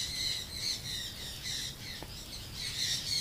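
A female pet bird nesting on eggs in an aviary setup squawks angrily, harsh repeated rasping calls close by and fairly loud, rising and falling in waves over a few seconds with no talking.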